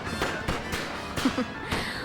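Magical fireworks burst from a failed potion in the video game Hogwarts Legacy: several sharp crackling pops and bangs at irregular intervals, fairly loud and close, mixed with game background sound.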